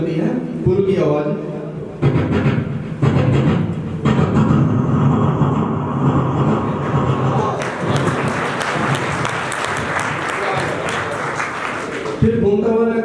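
A voice imitates a train rolling over a bridge, a sustained rumbling, clattering stream of mouth noise lasting several seconds, loud and close, with a brief break near the start.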